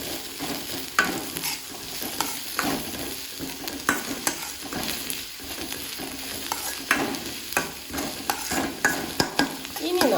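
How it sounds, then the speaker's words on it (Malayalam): Curry leaves are stirred into sautéed onions in a pan for Kerala pappada ada, with a soft sizzle running beneath repeated clinks and scrapes of the spoon. "കറിവേപ്പില എന്നിട്ട് നല്ലപോലെ ഒന്ന് ഇളക്കി ചേർക്കാം"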